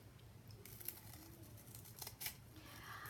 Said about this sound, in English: And this is the piece that we're gonna cut, okay?